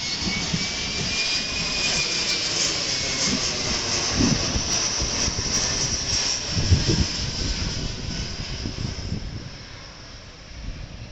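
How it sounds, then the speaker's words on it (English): A loud jet airplane roars past, its engine whine and rumble swelling in the middle, then gradually fading away at the end. "I always try to get footage of the actual airplanes passing by."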